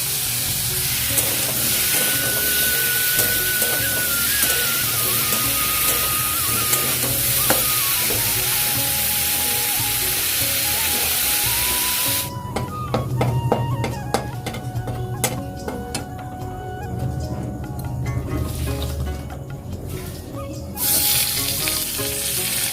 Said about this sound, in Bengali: এখানে আলুটাকে ভেজে নিচ্ছি নুন আর হলুদ দিয়ে